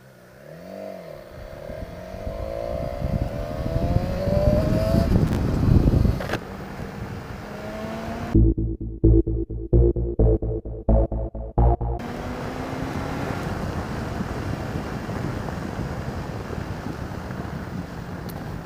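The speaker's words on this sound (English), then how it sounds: "as you can probably hear, this thing has some serious power" BMW S 1000 XR sport-touring motorcycle engine while riding, a loud continuous roar with rising revs and gear changes, a brief burst of sharp rhythmic pulses midway, all under heavy wind rush with no talk.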